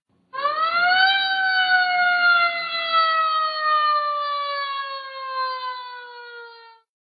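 An ambulance siren arriving at a hospital sounds one long, loud wail that rises abruptly, then slowly falls in pitch over about six seconds before cutting off, with no talk.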